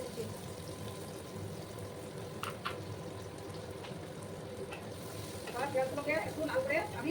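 Black cumin and green chillies sizzling in hot oil for a tilapia curry, a faint steady frying hiss with occasional stirring knocks, and a voice speaking near the end.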